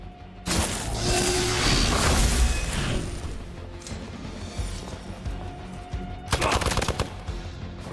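Loud automatic gunfire in Marvel's Midnight Suns, a long rattling burst at the start followed by a quieter stretch, then a second sharp volley near the end.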